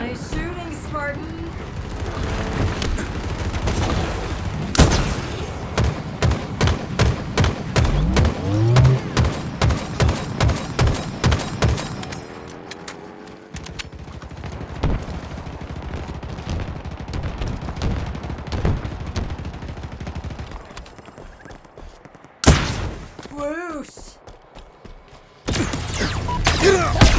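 Rapid gunfire bursts crackle through a 12v12 Big Team Battle in Halo Infinite, with sustained automatic fire and a few heavy blasts, while game voice lines talk over the action.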